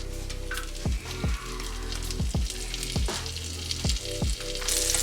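Slices of French toast fry in butter in a hot pan, giving an even sizzle and sharp periodic knocks, roughly every half second, with the hiss swelling toward the end.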